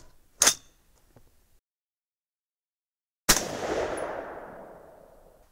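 A 6.5 Creedmoor rifle loaded with 130gr Berger AR Hybrid OTM bullets over VihtaVuori N555 powder fires two sharp, loud shots seconds apart, the second trailing off in a long echoing decay.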